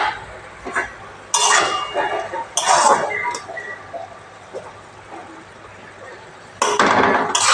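A metal pot lid clinks and scrapes as it is lifted off boiled banana flower, sharp clattering bursts at intervals amid quieter kitchen handling.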